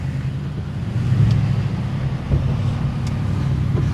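A Ford Crown Victoria with a new clutch cruising on a road, heard from inside as a steady low engine and road rumble with faint wind noise, continuous and even throughout.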